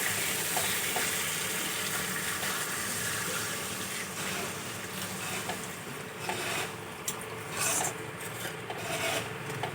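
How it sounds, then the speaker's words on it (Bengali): Water is poured into a hot pan of silver carp fish curry with potatoes, giving a steady, loud hissing sizzle and rushing splash that runs continuously throughout, with no voices. "এখন আমি পরিমাণ মতো জল দিয়ে দেব।"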